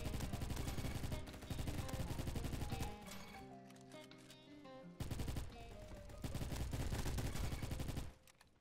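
Rapid automatic gunfire from the Roblox-style shooter Bad Business, loud and dense bursts that drop out for a couple of seconds before resuming in heavy sustained fire, with no talking over it.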